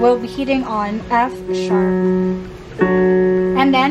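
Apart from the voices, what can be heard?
No everyday noises stand out.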